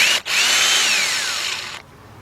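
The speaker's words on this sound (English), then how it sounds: "I'm going to use my cordless drill with my 10mm deep socket on there." A cordless drill with a 10mm deep socket runs briefly at high speed, its whine slowly dropping in pitch as the dead battery fades, then stops; close and loud with no talk.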